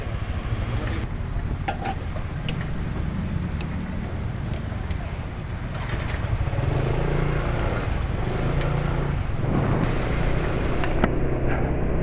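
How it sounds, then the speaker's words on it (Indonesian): Motorcycle engine running smoothly and steadily after an oil change, with Silkolene Super 4 drained and Federal Supreme XX oil added. The close, continuous low rumble idles and then swells a little louder partway through. "setelah isi bensin ini suara mesin masih halus sih"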